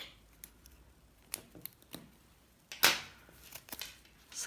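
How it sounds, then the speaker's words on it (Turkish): Scissors cutting paper yarn while crocheting a bag: a few quiet, crisp snips spaced out, with one sharper, louder cut near the middle, close by and without talk. "İpi kesiyorum."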